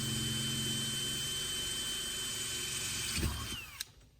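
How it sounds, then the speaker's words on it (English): A power drill whines steadily at close range while drilling a hole for an eye bolt, then slows and cuts off near the end. "The next step is going to be drilling our hole so that we can put our eye bolt"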